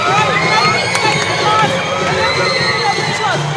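Basketball crowd at a WNBL game between Perth Lynx and JCU Townsville Fire, making loud, steady noise and cheering throughout, with a dense babble of voices and a few sharp shouts rising above it.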